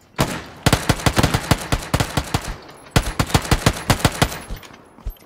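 Rapid automatic gunfire from a real gun in a video game, two loud, close bursts of sharp evenly spaced shots separated by a brief pause.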